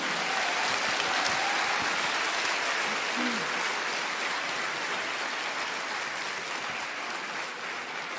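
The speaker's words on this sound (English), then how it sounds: "Let's make a big, warm applause for Sadhguru and his team" An audience at a Save Soil event with Sadhguru in Azerbaijan breaks into sustained applause, a dense, even roar of many hands clapping that holds steady and fades only slightly over eight seconds.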